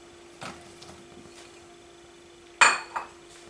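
A metal saucepan is set down on a kitchen stove for cooking green beans, giving one sharp clanking knock followed by a softer clink, with quiet room noise otherwise.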